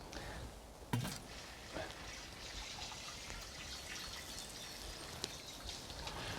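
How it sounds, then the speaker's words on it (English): Water trickles and pours steadily as spring garden plants are watered, a faint, continuous wash with a couple of small knocks and no talking. "now is the time to give them a water."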